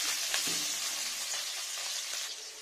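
Onions fry in hot oil with a bright, close, continuous sizzle that stays loud throughout, with a few faint stirring bumps and no voices.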